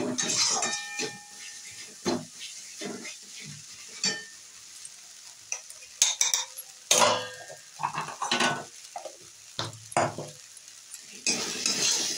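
Spice paste is fried and stirred in a pan for a pointal curry, producing uneven bursts of sizzling and spatula scrapes against the metal, with quieter gaps between strokes.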